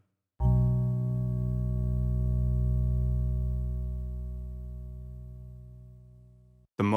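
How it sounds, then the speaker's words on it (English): A sustained Yamaha DX7 synthesizer note with a rich, steady harmonic tone, held for several seconds and slowly fading before cutting off. "The Yamaha DX7."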